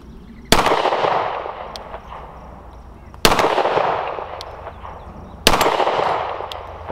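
A Rock Island Ultra 10mm double-stack pistol fires three loud, sharp shots outdoors, evenly spaced about two and a half seconds apart, each followed by a decaying echo.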